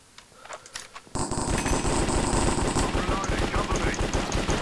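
Rapid pistol gunfire in the video game Minecraft, a dense burst of loud repeated shots beginning about a second in and continuing without pause, with shouting voices underneath.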